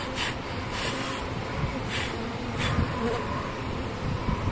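Honeybees buzz around an open hive in a dense, continuous hum, with individual bees droning close past in short swells, fairly quiet overall and with no speech.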